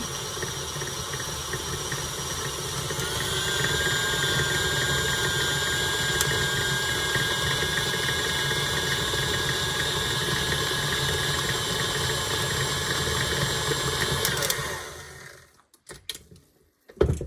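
An electric mixer runs at a steady, loud whir while blending ramp butter, its tone stepping up slightly as the speed increases, then cutting out near the end with a few clanks.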